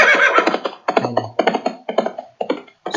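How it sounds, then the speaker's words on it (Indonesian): A Scratch horse sound effect plays as a loud, repeating loop of hoof beats in evenly spaced bursts about half a second apart, with a brief whinny-like sound at the start and no talking. "Kemudian suara yang derap kaki kudanya ini terus bersuara"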